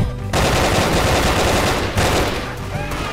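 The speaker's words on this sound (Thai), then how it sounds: "โดนยิงหลังให้ได้งี้ดี" Rapid automatic gunfire in the Brick Force online shooter game, loud, dense bursts filling nearly the whole moment with a short pause in the middle.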